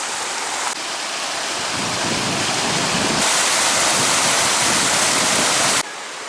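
Rushing torrent of water outdoors on a breezy walk, a loud, steady broadband roar that swells in the middle and continues without a break, with no voices over it.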